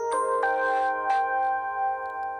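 Samsung Galaxy C4 phone's "Charm" notification tone: three bright, bell-like chime notes struck in quick succession, each ringing on with a clear sustained tone that fades slowly, alone and close.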